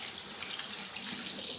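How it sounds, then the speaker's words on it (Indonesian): Tap water runs steadily and splashes over hands in a sink, a continuous close hiss with no voices. "Jadi kita basahi air dengan air mengalir,"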